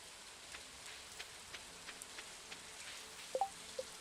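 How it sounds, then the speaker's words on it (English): Light rain falls steadily in a farming video game, a soft continuous patter with scattered faint drop ticks and a few brief louder blips near the end. "I don't mind the rain too much."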